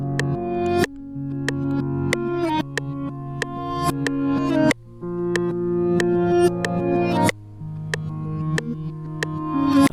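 Reversed guitar sample in FL Studio, its notes swelling upward and cutting off abruptly in repeating phrases, with a low sustained bass beneath and no voices.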